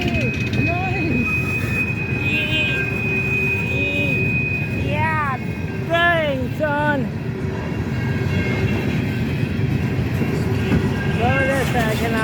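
Union Pacific coal train 7225 rolls past a road crossing with a steady, dense rumble of cars, while people talk and exclaim over it nearby.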